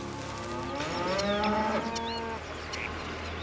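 Cattle on a farm in Pembrokeshire, West Wales, moo loudly at feeding time, several long lowing calls overlapping near the listener, with faint bird sounds.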